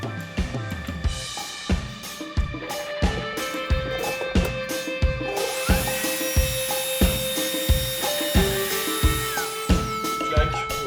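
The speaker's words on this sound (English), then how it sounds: "The router did a really good job." A router machining a glued aluminium piece in a workshop, giving a steady high whine with a regular pulsing cut repeating about twice a second, loud and close, with no talking.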